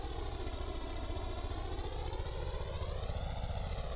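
Boat engines in the Stormworks game drone in a steady, loud mechanical hum with a rising and falling pitch as they rev through the run, continuous and alone without speech.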